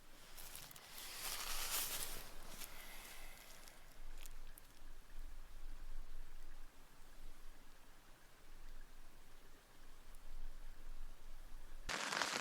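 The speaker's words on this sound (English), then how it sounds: "It's just started to get really heavy rain" Heavy rain patters on a camping tent in the Glencoe hills in autumn, a steady diffuse hiss heard from inside, with a few louder rustles and bursts of contact noise near the start and end.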